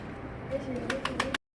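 Soft cooing of Mardin pigeons close by, a few low throaty coos near the end over a murmuring background, stopping abruptly.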